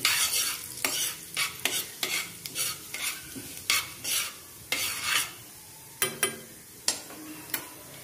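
Cumin (jeera) seeds sizzle in hot oil in a pan, crackling under a repeated stirring scrape in an irregular rhythm.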